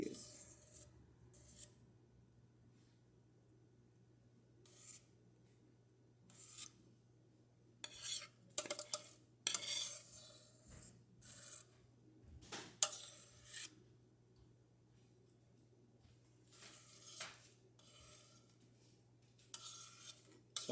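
Sticky homemade flaxseed hair gel scooped out of a pot, with intermittent scraping and rasping strokes of a utensil against the pot, close and fairly quiet, separated by short pauses.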